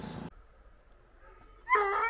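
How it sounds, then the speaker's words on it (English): Excited hound puppies on a bobcat hunt in Oregon give brief yips and whimpers. The yelps come at the start and end, with a thin, faint whine drawn out between them, and no one talks. "Puppies are freaking out."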